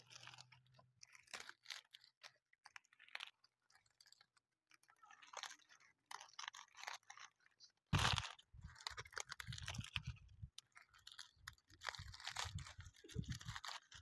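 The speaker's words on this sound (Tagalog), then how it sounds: "Masyadong malutong yung nakuha natin dahon." Quiet, intermittent crunching and crackling of very crisp dry leaves being handled up close, with louder bursts in the second half.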